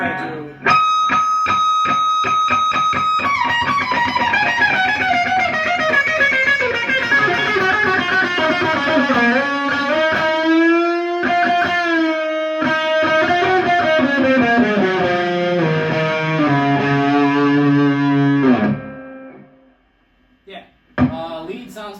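An electric guitar plays a lead line through a Laney Ironheart IRT15H2 15-watt tube head, with sustained and bending notes that are loud and close, then trails off into quiet near the end.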